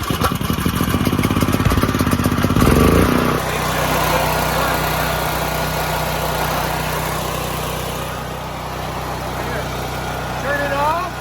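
A Firman 9400 dual fuel generator is pull-started on choke, and a fast rattling pull and sputter gives way to a steady engine drone that runs loud and close. A voice speaks over it.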